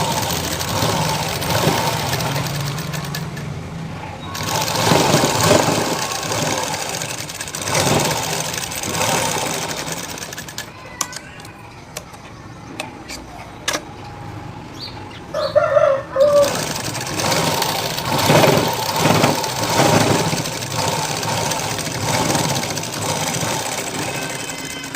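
A sewing machine stitches a belt strip for a garment front in bursts of rapid, steady mechanical whirring, pausing between runs, with a rooster crowing faintly in the background.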